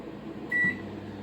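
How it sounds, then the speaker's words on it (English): A microwave oven heating food for a chicken kebab, its steady low hum running throughout, with a brief faint tone near the middle and a soft click or knock at the end. "You just pop them in the microwave for 10 seconds."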